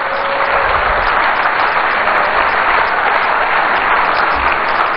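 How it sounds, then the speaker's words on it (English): An indoor audience at a political event in Accra, Ghana, claps loudly and steadily for arriving guests, a dense unbroken wash of applause for the full stretch. "I think we need to give them a bigger round of applause"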